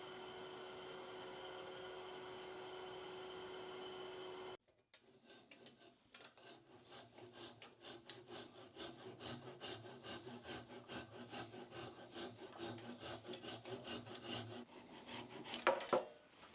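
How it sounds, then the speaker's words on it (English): A turned wooden piece is buffed as it spins on a woodturning lathe, a rhythmic rubbing and whirring friction that builds and holds for about ten seconds, close and quiet, after a steadier machine hum cuts off. "Then I just give it a real good buff with the lathe"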